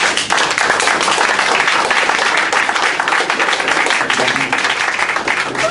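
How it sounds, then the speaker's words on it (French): Men in a hall applaud during an educational talk on African traditions and development, giving a loud, sustained burst of many hands clapping together close by. "je voudrais demander à tous les hommes d'applaudir."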